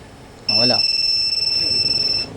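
A Yamaha Fazzio scooter's anti-theft alarm sounds a loud, sustained electronic tone with a faint pulsing flutter, starting abruptly and running about two seconds, while someone speaks briefly at its onset.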